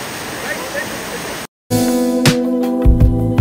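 Steady rushing water flows nearby, then after a brief cut continues with a layer of humming tones and occasional knocks over it.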